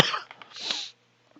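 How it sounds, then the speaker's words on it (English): A single sharp cough bursts out close up, followed by a couple of shorter breathy rasps, then near silence. "I do apologize for that cough."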